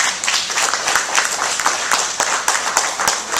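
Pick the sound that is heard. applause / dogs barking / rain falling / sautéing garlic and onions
applause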